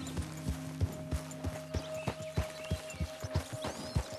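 Horse hooves clip-clop in a steady trotting rhythm in Red Dead Redemption 2, close and distinct, with game music tones sustained underneath.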